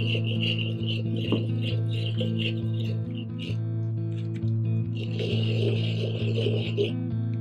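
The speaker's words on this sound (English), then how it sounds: "there's two ways to sand, either with sandpaper or sandstone" A clay pot being sanded by hand with sandpaper or sandstone gives a steady rasping, scratchy rubbing in repeated strokes, close and moderately quiet over a low constant hum.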